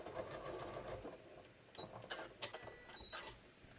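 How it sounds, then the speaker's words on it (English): Sewing machine stitching down the pocket seam of a pair of shorts, a fast, close mechanical whirr with rhythmic needle clatter, pausing briefly midway before resuming. "I'm just going to sew all the way down"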